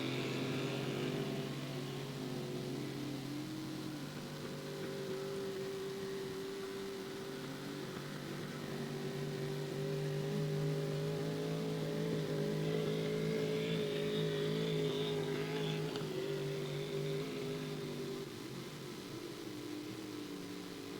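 Cracker box racing boat engines droning steadily on a lap of a Sunday final race, a loud continuous roar that swells slightly in the middle, with no speech.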